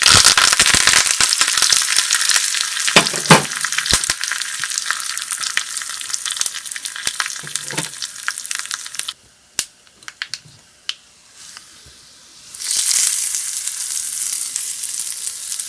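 Mustard seeds crackle and pop in hot oil, a busy sizzle with sharp snaps that thins to a few scattered pops before the frying swells again.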